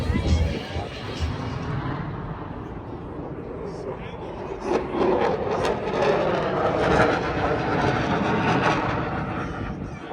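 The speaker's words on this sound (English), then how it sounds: "this is the Swamp Foxes, this is the F-16 team" F-16 fighter jets from the Swamp Foxes team flying a demonstration at an air show, a broad sustained roar that swells and fades across the clip, heard at a distance with crowd talk underneath.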